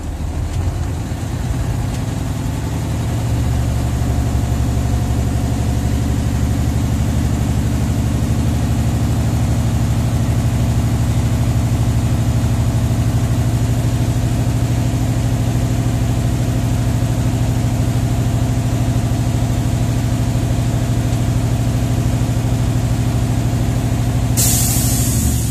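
A truck engine holds a steady, loud high-idle roar as it is revved to build air brake pressure during a pre-trip brake test in the cab, with a brief hiss of air near the end.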